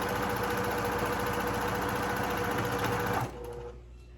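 A sewing machine stitches ribbon onto tulle for a tutu, a loud close rapid mechanical whir and clatter that runs steadily, then stops abruptly near the end, leaving a faint hum.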